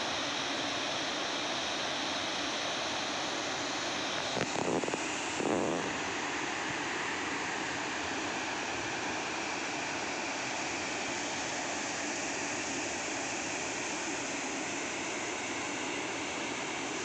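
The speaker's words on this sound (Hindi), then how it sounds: "हमें एक सुंदर सा झरना दिखाई दिया।" A waterfall along a roadside on the way to Chitrakoot pours continuously, a broad, steady rushing wash heard up close. A couple of brief knocks break it near the start, and no one speaks.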